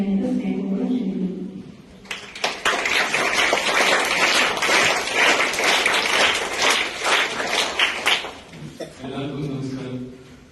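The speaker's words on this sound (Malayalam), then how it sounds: "നിങ്ങളുടെ പിള്ളേരുടെ ക്ലാപ്പ് ഒരു വെരി പെക്യൂലിയർ ക്ലാപ്പ് അല്ലേ? നല്ല ട്യൂണുള്ള ക്ലാപ്പാണ്." Schoolchildren at a school function burst into loud, dense applause that lasts about six seconds and then stops abruptly, with speech before and after it.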